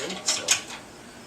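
Two quick metallic clicks close by as a tool works a tight exhaust pipe clamp loose, the second slightly sharper, then quiet.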